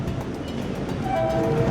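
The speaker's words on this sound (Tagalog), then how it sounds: "Yung mga tren na tumatakbo dito, dahil isa na lang yung riles" A Philippine National Railways train runs along a single-track line, its steady rumble and rail noise close and continuous, with a sustained horn-like tone rising in toward the end.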